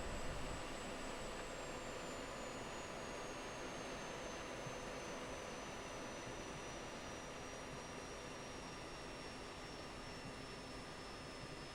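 A jet engine roars steadily in a flight simulator game as the aircraft comes in for a runway 36 approach with air brakes on, a loud continuous broadband rush with a slowly falling whine, alone without talk.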